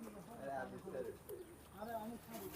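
Pakistani flying pigeons coo repeatedly in soft, rolling phrases close by. The steady calls mix with a person's voice talking nearby.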